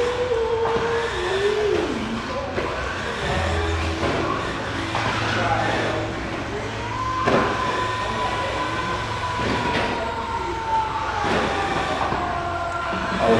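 Sportsman race cars rolling off the start and heading into lap one, a continuous engine drone with rising and falling whines and some tonal sweeps, heard under an announcer's commentary.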